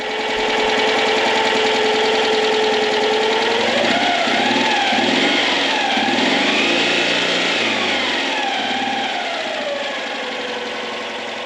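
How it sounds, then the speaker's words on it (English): An air-cooled 600 cc 2CV engine runs on a restored French Foreign Legion Lohr Fardier military vehicle. It sounds loud and steady, with its pitch rising and falling as it is revved partway through, and no one speaks. "all 600 cc's of it, air-cooled delight"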